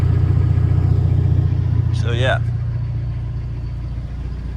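A lowered car with no exhaust fitted idles close by with a steady low rumble throughout, while someone talks briefly partway through.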